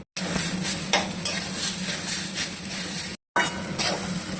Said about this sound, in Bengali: এবার দিয়ে দেবো এই আদা আর কাঁচা লঙ্কা বাটাটা।